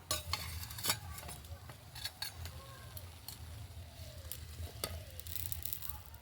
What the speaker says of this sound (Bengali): একইভাবে বাকিগুলো ভেজে নেব।